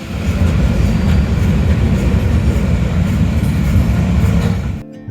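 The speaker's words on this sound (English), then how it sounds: "With this train station right here in the middle of town, you'll have trains coming through all day long." A train rumbles loudly past at close range through a small-town center by the station, a heavy continuous roar with rattling wheels that cuts off abruptly at the end.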